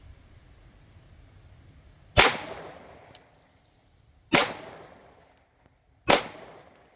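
Three sharp gunshots from a Palmetto State Armory Dagger pistol fired outdoors at about six yards, evenly spaced around two seconds apart, each a loud crack with a short decaying tail and a faint clink between.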